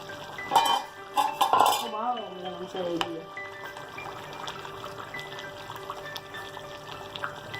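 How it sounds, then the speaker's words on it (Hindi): A metal lid lifted off a kadhai of simmering chicken curry with buttermilk and potatoes, with a few clinks and scrapes of metal cookware up close, then a steady low bubbling hiss. "10 मिनट हो गया तो ढक्कन खोल देते।"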